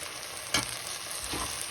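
Idly manchurian fries with tomato ketchup in a pan, a constant close sizzle broken by two spatula scrapes and stirs, with no one speaking.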